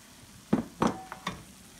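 Shrimp dropped into a hot pan for a fresh vegetable sauté give a few separate crackling sizzles, about four quick bursts over under two seconds, close and moderately loud, with no talk.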